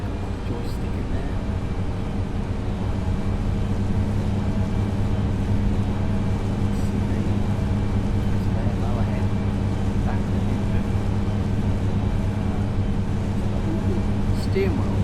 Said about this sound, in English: This is a nice tractor.